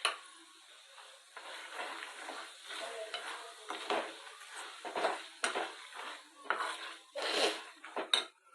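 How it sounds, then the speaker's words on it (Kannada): Churumuri is mixed in a bowl, a series of close clinks and scrapes of a spoon against the dish in an irregular rhythm, fairly quiet, with no talking. "ಮಿಕ್ಸ್ ಮಾಡ್ತೀನಿ ತಡ್ರಿ ಇದನ್ನು."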